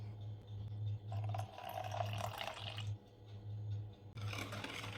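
Warm water and vanilla pour into chocolate cake batter in a couple of short splashing bursts over a steady low hum.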